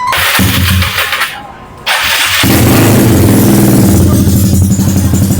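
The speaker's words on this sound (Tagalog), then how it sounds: "i-warm up lang natin siya para mag-circulate ang bagong langis sa buong motor" A Mio 160cc motorcycle engine, freshly oil-changed, sputters, cuts out briefly, then restarts and settles into a loud, steady idle with rapid rhythmic chugging close by.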